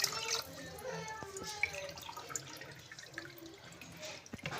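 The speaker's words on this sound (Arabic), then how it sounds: "كده حطينا 4 كوبايات ونص من الميه" Water poured from a cup onto sugar for a mango kunafa syrup, soft splashing and trickling with small drips, faint and close.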